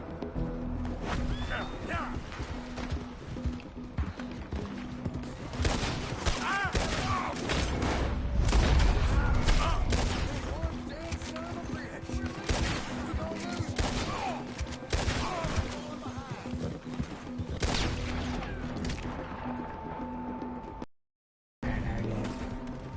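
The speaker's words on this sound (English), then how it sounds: "Someone else is shooting at me as well." Gunfire in the Red Dead Redemption video game, with sharp shots crackling through a busy, dense mix of game sounds and music, fairly loud throughout with a brief dropout near the end.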